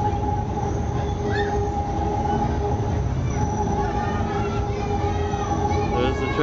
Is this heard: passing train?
yes